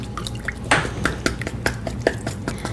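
A spoon works cornbread batter in a bowl, giving soft wet clicks and sloppy stirring taps in an uneven rhythm, close and fairly quiet, with no talking.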